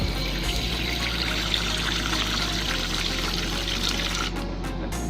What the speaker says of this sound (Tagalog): Lagyan natin tubig yung ating water dish.